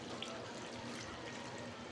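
About three-quarters of a cup of water pours into a bayan bread dough mixture of flour and margarine, a quiet, steady wash of liquid that runs unbroken with no talking.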